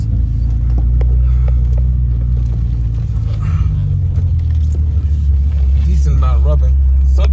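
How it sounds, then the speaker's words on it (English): A BMW 325i rolls along in first gear through a park, its engine a loud, steady low rumble throughout, with the wheels rubbing and something clunking at the back; a voice briefly cuts in near the end. "some rubbing on the wheels"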